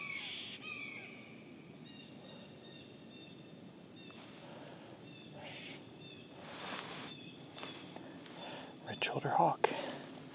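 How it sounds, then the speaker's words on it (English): Outdoors among shrubs during fall migration, a red-shouldered hawk calls a few times from a distance, faint against soft rustling and low whispered talk, with a sharper noise near the end. "Red-shouldered hawk."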